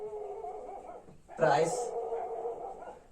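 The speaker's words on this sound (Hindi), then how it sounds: "बाहर कुत्ते भौंक रहे हैं" Dogs barking outdoors, heard as a short burst of barks and yips in the distance behind a man lecturing indoors; his voice continues throughout.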